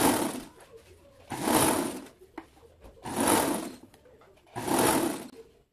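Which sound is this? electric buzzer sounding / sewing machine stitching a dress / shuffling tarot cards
sewing machine stitching a dress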